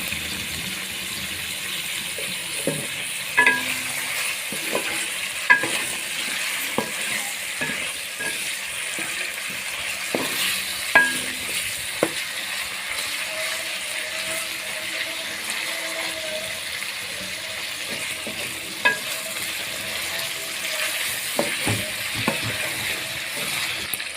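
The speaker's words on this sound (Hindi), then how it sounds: "चिकन को आपने भूनना है ताकि कच्चापन इसका ख़त्म हो" Chicken pieces sautéing in a pan for aloo gosht, a steady close sizzle and frying hiss with occasional stirring scrapes and clinks, running continuously with no talk.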